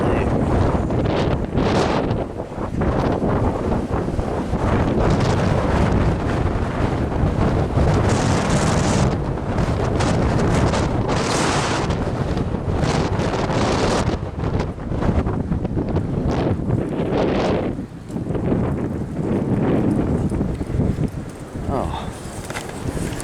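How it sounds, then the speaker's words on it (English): High winds blow through trees outdoors, a loud, continuous roar with surging gusts that buffet the microphone throughout. "let's see how good my gate fence is blocking the wind"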